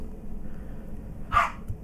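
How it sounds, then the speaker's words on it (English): A single short dog bark sounds from a distance against quiet room noise. "Why is Bowser barking?"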